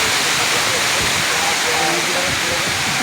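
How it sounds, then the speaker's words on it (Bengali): Water rushes heavily down a waterfall, a loud, dense, unbroken roar of white-noise hiss that fills the whole stretch, with faint voices mixed underneath. "জলটা যাচ্ছে প্রচুর নিচে"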